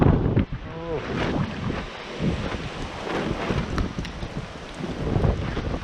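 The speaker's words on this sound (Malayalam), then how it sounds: "ഭയങ്കര കാറ്റ്, ഭയങ്കര പൊടി" Strong wind gusting and buffeting outdoors as dust is blown about, a continuous roaring rumble with rough broadband texture and surges, while people exclaim and talk excitedly over it.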